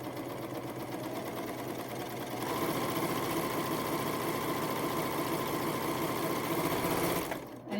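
A PFAFF Admire Air 7000 serger sewing a corded wavy edge with fishing line in a 3-thread rolled hem, running as a continuous rapid mechanical whir that speeds up slightly partway through before stopping, close and alone.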